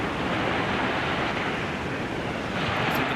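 Ocean surf in the Second Life virtual world, a steady, close and loud wash of waves with a windy hiss and no pauses.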